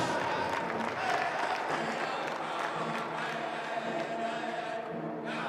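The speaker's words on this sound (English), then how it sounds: "Big round of applause." Sustained crowd applause fills the stands at a university track and field national championship, honoring a veteran; steady and dense throughout, with faint voices mixed in.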